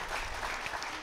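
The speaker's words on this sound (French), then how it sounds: "que je vous demande d'applaudir très très fort." A studio audience applauds the guest of the month, the ambassador of Mali to India, on a talk show, producing a brief, moderately faint burst of mixed clapping that stays even throughout.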